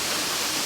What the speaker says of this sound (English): this is Kirinyaga waterfall